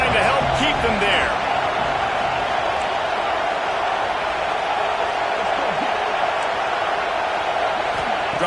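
Steady roar of a large stadium crowd at a college football game between South Carolina and Texas, a dense continuous wash of cheering throughout, with faint voices and thuds in the mix.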